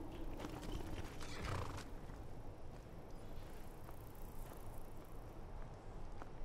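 A horse in the video game Skyrim gives a quiet snort and whinny with a few soft hoof clops, faint and brief against low background game ambience, with no talking.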